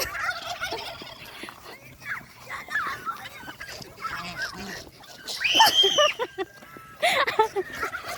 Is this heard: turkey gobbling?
yes